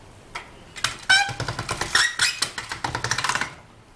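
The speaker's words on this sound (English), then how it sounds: "then roll it through your pasta machine, fold tight down" Clay with embossing powder folded inside is cranked through a pasta machine, giving a quick series of clicking, ratcheting knocks over a few seconds, close and distinct, with no voices.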